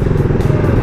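A motorcycle engine drones loud and close in a short, steady burst, a throaty rumble with light mechanical clatter.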